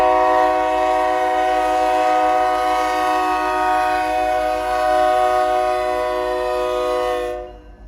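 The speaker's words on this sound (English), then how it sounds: "As this train continues to work its way east" A freight train heading east past a crossing at 85th Avenue North, a loud sustained multi-tone horn blast dominating nearly eight seconds before cutting off abruptly, with rail rumble beneath.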